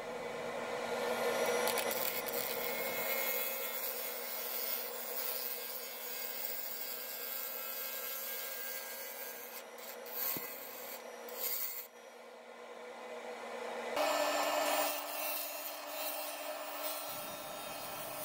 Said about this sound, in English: I switched over to the Easy Wood tool, number one hollower here, for a few moments. As you can see, it's cutting through that resin pretty well.